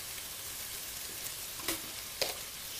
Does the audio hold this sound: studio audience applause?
no